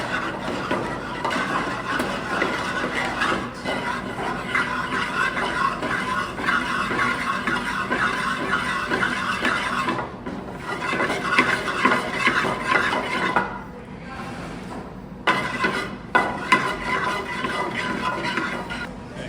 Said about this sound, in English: Swirling it in, just keeps mixing it until all that butter has become incorporated with the sauce.